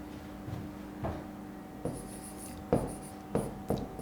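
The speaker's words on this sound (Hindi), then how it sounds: "अब मैं एक फिर से क्वेश्चन लिखता हूं आपके लिए" Chalk or marker writing on a classroom board, a series of quiet intermittent scratches and taps as strokes are made, close and faint with no talk over them.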